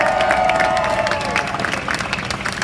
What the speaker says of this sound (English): a big round of applause to Jill